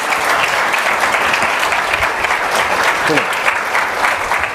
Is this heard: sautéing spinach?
no